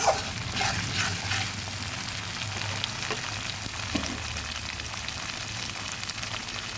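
Steady crackling sizzle of ginger frying in a hot pan, continuous and close, with no talking over it.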